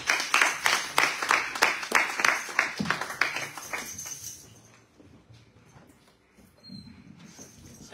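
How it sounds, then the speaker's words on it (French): A church congregation applauding for the Lord, dense, fast rhythmic clapping from many hands for about four seconds, then fading to quiet room murmur. "Est-ce que nous pouvons acclamer pour le Seigneur, s'il vous plaît?"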